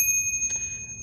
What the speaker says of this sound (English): Always important to have yourself a bell with a around town bike.